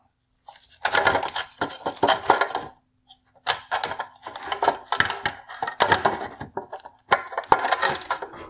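The plastic housing of a 2018-2022 Tesla Model 3 OEM LED tail light is pulled apart after its welds are broken, giving a run of close, sharp cracking and creaking snaps in bursts with brief pauses between.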